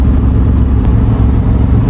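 A 1970 Dodge Challenger muscle car's engine rumbles loud and close, a deep continuous throaty growl with a slight uneven pulse, no voices.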